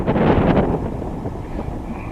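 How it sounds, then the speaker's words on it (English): Strong gusting wind buffets the microphone beside a narrowboat on a wet, blustery day, a loud broadband roar that peaks in the first moments and then settles into a steady rush, with no talking. "It's a dead windy day."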